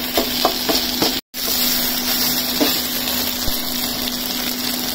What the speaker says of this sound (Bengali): একটা ডাল ঘুটনি দিয়ে এভাবে ঘেঁটে নিতে হবে।